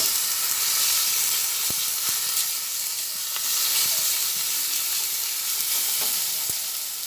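Bottle gourd peel koftas fry in hot oil, producing a constant, loud, hissing sizzle broken by a few sharp taps from a spoon or the pan.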